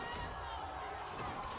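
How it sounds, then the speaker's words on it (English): The crowd at a League of Legends LPL playoff semifinal between JD Gaming and Anyone's Legend roars as a steady, dense wash of cheering that fills the arena without pause. "The crowd is going nuts."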